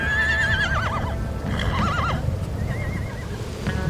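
Horses at a South Dakota buffalo roundup whinny loudly several times in descending wavering calls over a steady rumble of milling hooves and dusty movement, close by with no talk.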